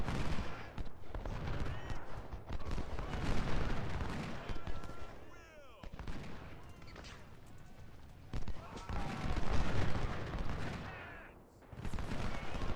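Volleys of musket and cannon fire from the Civil War battles of the video game Ultimate General: Civil War, aimed at artillery positions. The shots come as dense, repeated bursts, and someone talks over them.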